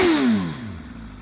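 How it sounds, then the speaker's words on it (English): A 2013 MV Agusta F4 motorcycle engine winds down from a sharp rev, its pitch falling quickly into a low settling idle, close and loud in a brief burst. "So here's a couple revs."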